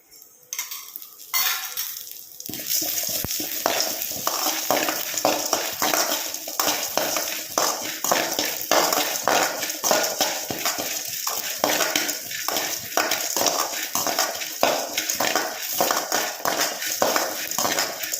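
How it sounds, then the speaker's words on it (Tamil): Chana dal, urad dal and peanuts roast in a pan with a little oil for coriander chutney, giving a continuous gritty sizzle with constant scraping and stirring against the pan. "கடலப்பருப்பு, உளுத்தம்பருப்பு, கடலக்கொட்டை இது மூணையும் நம்ம வறுத்துக்கலாங்க"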